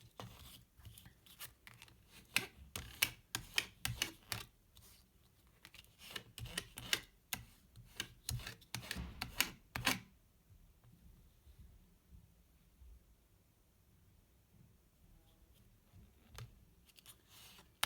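A ruler pressed and rubbed firmly across a playing card to flatten out creases, making a busy run of close, dry scraping and tapping strokes that stops partway, leaving a quieter stretch with a few light knocks.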